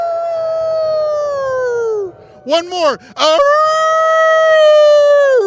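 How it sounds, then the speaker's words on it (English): A crowd at an elementary school grand opening ceremony howls together in celebration, long rising and falling wolf-like voices, loud and close, with a brief break and laughter before the howling resumes; a voice speaks briefly. "let's do a quick little howl of celebration and coming together."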